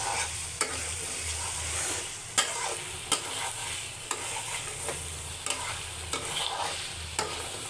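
Chicken sautéing with spices in a pan, a steady sizzle punctuated by sharp spoon knocks and scrapes against the pan at roughly one-second intervals.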